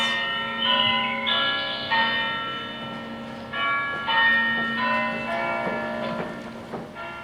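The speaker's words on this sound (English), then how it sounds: "The bell summons us." A church bell tolls repeatedly in an English cathedral town, with bright overlapping strikes every second or so and a long shimmering decay, fairly close and alone without speech.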